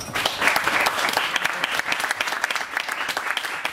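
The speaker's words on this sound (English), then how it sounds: "please, first round applause of tonight for Marco" A meetup audience bursts into close, dense applause welcoming a Microsoft Portugal speaker, continuous clapping at steady volume throughout the short stretch.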